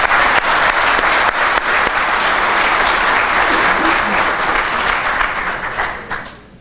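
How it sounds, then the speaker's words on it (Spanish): An auditorium audience at a Spanish-language mining lecture breaks into sustained applause, many hands clapping in a thick, even roar that holds strongly before tapering away in the final second. "Aplausos."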